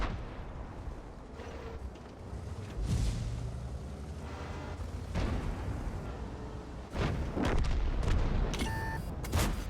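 In the World of Tanks game, an Object 907 tank fires its cannon, and several heavy booms rise over a busy rumbling background, with distant impacts and crackling mixed in.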